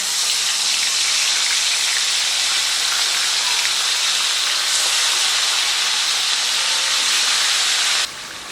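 Marinated chicken dropped into hot fried spices in a pan for lemon pepper chicken, giving a loud, steady, close sizzle that hisses continuously and then drops off sharply near the end.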